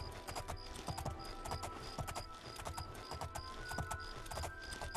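Horse hooves clip-clop steadily in the video game Oblivion, an even, fairly quiet run of hoofbeats over the game's soft ambient backdrop with no talking.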